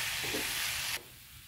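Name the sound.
egg being stirred into rice while frying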